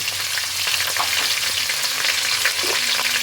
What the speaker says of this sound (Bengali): এর মধ্যে আমি দিয়ে দেব পেঁয়াজ কুচি